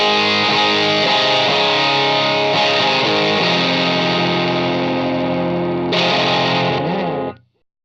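A heavily overdriven electric guitar through a JHS Kilt overdrive pedal with boost engaged plays sustained, saturated chords with thick gain and a shimmering effect, loud and continuous before cutting off abruptly.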